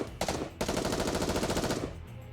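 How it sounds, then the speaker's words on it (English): Rapid bursts of video game gunfire from the Nikke crossover, a dense sustained barrage of automatic shots fired at an exposed core, loud and continuous after a brief opening burst and stopping abruptly near the end. "Asuka and Rei unleash a barrage of gunfire towards the core."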